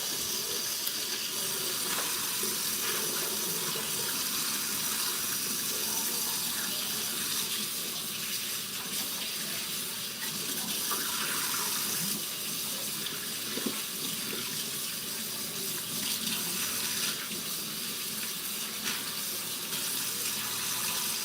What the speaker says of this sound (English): now let me rinse off my ribeyes